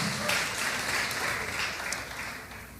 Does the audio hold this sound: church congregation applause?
yes